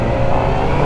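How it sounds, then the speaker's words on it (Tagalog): A Kawasaki ZX4RR motorcycle engine revs close by, a loud, dense, steady roar held through the whole short moment. "Ang smooth ng makina."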